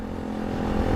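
KTM Duke 200 single-cylinder motorcycle fitted with an SBK aftermarket exhaust, a steady close idle or low rev with a throaty rumble that swells slightly toward the end, heard alone.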